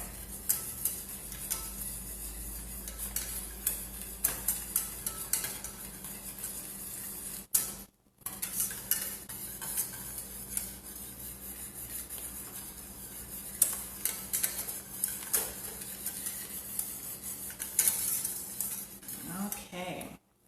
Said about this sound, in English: Go ahead and scrape down the sides of your pan.